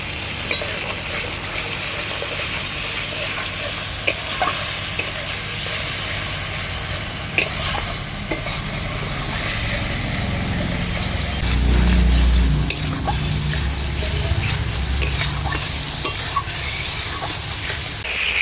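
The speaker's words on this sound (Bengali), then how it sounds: "মশলাটাকে আমি ভালোভাবে কষিয়ে নিয়েছি, পুরোপুরি তেল ছেড়ে দিয়েছে।" Spice paste sizzling in oil in a pan with a splash of water while a spoon stirs and scrapes against the metal, for a vegetarian Bengali raw banana curry; a steady close hiss with intermittent clinks and scraping.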